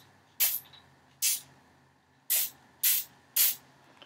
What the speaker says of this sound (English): Next, we're going to take our deoxidizing spray.